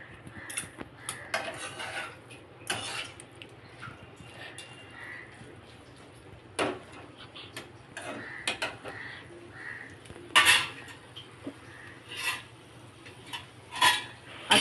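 A fork and spoon stir masala noodles in a pan, giving scattered metallic clinks and scrapes of varying loudness over a quiet background.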